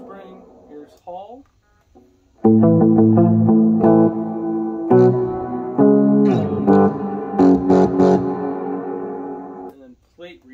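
A voice talks briefly, then an electric guitar plays a run of strummed chords and notes through an Orange Crush Pro 120 amp head, drenched in spacious hall reverb, with talking again at the end.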